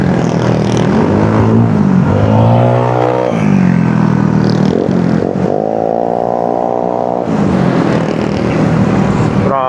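Road traffic moves through a busy Philippine street, with car engines revving and passing close by in several loud surges that rise and fall across the stretch.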